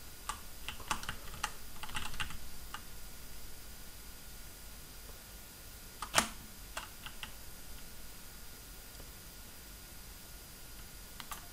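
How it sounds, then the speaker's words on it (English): Keys pressed on a computer keyboard while a game character is built in Unity: faint, scattered clicks and short bursts of typing, with one sharper tap midway, over a quiet hiss and no talking. "I'm holding the letter A on my keyboard and the S to go further back"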